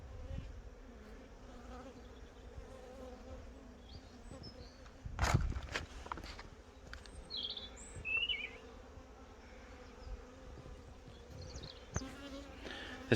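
Honey bees buzz in a crowded hive being split into an observation nucleus, a quiet, steady hum with occasional louder passes and handling knocks nearby.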